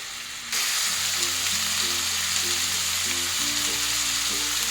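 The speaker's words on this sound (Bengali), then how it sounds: "চিকেনটা দিয়ে অল্প করে একটু ভেজে নেব।" Chicken pieces dropped into a hot pan for a green masala curry, bursting into a loud, steady sizzle that hisses on without a break and no talking.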